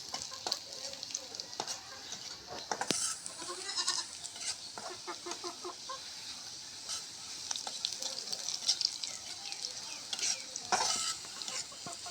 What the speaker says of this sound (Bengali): এই আলু ভর্তার জন্য কাঁচামরিচ পেঁয়াজ এগুলা তেলের ভাজি নিচ্ছে